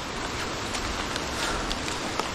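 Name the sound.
heavy rain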